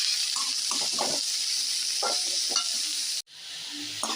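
Half a head of shredded cabbage sautés in oil for a cabbage fry, with a steady hiss and intermittent spatula scrapes as it is stirred, the sizzle briefly cutting out before resuming.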